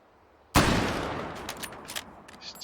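A single loud, sharp rifle shot from a bolt-action gun in the Hot Dogs, Horseshoes & Hand Grenades VR game, with a long decaying tail and a few faint clicks afterward.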